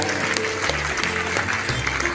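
A lecture audience of students claps together in thanks for a photographer, a dense, continuous burst of applause that stays even and loud throughout.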